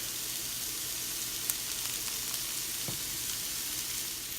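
Vegetables caramelizing in a pan with a soft, constant sizzle, quiet and even, with a couple of faint utensil ticks.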